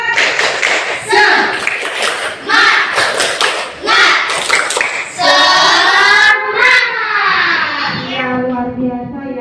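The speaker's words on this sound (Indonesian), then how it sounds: "sekarang mau minta tepuk semangat" A school class in Indonesia performs a rhythmic 'tepuk semangat' clap: sharp patterned bursts of many hands clapping in unison, followed by children's voices chanting along, loud and close.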